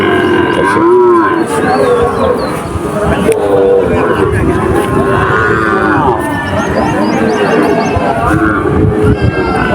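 Many cattle moo loudly and overlapping at the busy Chuknagar cattle market in Khulna, long drawn-out calls over a dense crowd babble with people talking throughout.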